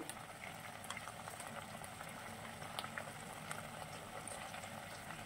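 Tomatoes simmer in a pan while cooking kothimeera tomato pachadi, a steady close bubbling and sizzling that stays even throughout, with no voices.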